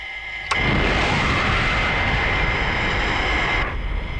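Jet engine on reheat (afterburner) in a Thunderbirds episode, climbing past Mach 3: after a brief quiet moment a loud, steady broadband roar bursts in and holds for about three seconds before easing off.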